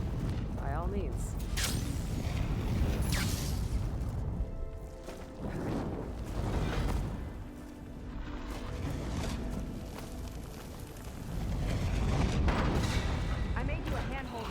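Ballista shots in Horizon Forbidden West: Burning Shores land as a series of heavy booming impacts with crashing debris, mixed in with game music and character dialogue.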